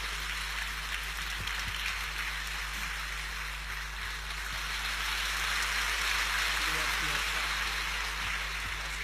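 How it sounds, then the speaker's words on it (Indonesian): A studio audience at the Kick Andy talk show gives steady, dense applause, an even rain-like wash of clapping that holds at a moderate level throughout without letting up. "sekali lagi beri tepuk tangan yang meriah untuk Tuhan kita Yesus Kristus"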